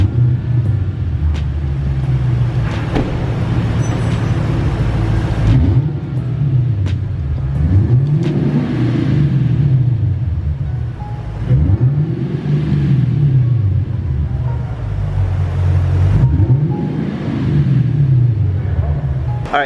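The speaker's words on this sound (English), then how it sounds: "it has like a little exhaust leak, and it sounds a little throatier" A Lexus IS F with a Joe Z exhaust and a small exhaust leak idles with a deep, throaty rumble, swelling in several slow revs that rise and fall, loud and close throughout.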